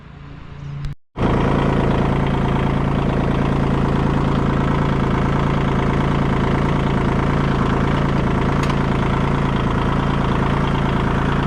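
A Kubota tractor engine starts and then idles steadily, a loud, close, even diesel rumble with a constant low drone that holds throughout after a brief dropout at the start.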